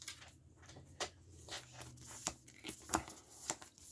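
Playing cards for the Everdell board game, shuffled and handled by hand: a quiet run of short, crisp riffling and snapping bursts about every half second, close by with no voices.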